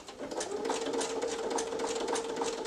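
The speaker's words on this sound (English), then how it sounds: "Now I like to use a zigzag stitch. I just think it gives it a nice firm stitch." A sewing machine runs a zigzag stitch through layers of fabric for a headband, giving a fast, even, rhythmic whirring close by, with no speech.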